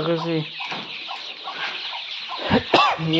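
Close clucking from a free-range country hen surrounded by many chicks, a short burst of overlapping bird calls with a sharper squawk near the end.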